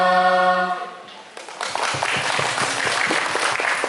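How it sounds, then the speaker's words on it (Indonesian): A sustained musical tone fades out, then audience applause for children at a Spartan Makassar charity event rises and holds as dense, steady clapping from a sizable crowd. "tepuk tangan dulu buat adik-adik kita semua"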